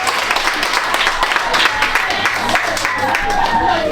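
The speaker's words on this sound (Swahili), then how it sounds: "Piga makofi mengi kwa Mungu." A church congregation clapping hands for God during a Sunday service, a dense rhythmic patter of many hands under a loud voice speaking over it.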